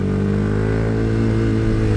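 Motorcycle engine droning loud and close as it rides a mountain road toward Cukul Sunrise Point in Pangalengan, Bandung, a steady rich rumble with no speech over it.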